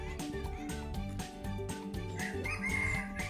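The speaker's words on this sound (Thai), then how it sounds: "คุกคุกไก่เพื่อนของน้องครีม" A chicken clucks repeatedly in short rhythmic bursts, close by, over a busy background of other sounds.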